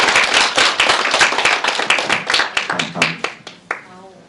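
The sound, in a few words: audience applauding presenter at seminar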